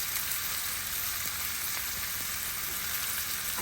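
Salmon pan-frying with thyme makes a dense, even, close sizzle that holds steady throughout, with no stirring or voices.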